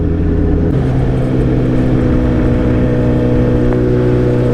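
A motorcycle rides along steadily, its engine droning loud and close with a constant low rumble and wind noise, no talk over it.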